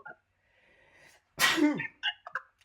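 A single loud sneeze bursts out after a quiet stretch, followed by a couple of short sniffs or breaths close by.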